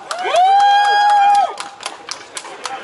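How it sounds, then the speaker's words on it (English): Crowd at a political rally cheering, with a loud sustained whoop or whistle over the first second and a half, then scattered clapping and shouts as the noise fades. "let's give a big round of applause for Frank Licata"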